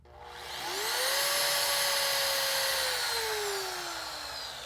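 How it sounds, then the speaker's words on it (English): A rotary car polisher spun up to speed 6 to dry a freshly cleaned pad, a loud close whine that rises quickly, holds steady, then drifts lower in pitch as it runs on. "I'm going to put the machine up to speed 6 and just to dry the pad."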